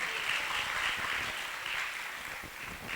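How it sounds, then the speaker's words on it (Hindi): Steady applause from an audience at a Jain religious discourse by Aryika Gyanmati Mata Ji, a dense continuous wash of clapping that stays fairly even and moderately quiet throughout, with no talking over it. "उनके लिए तालियां बजा दें।"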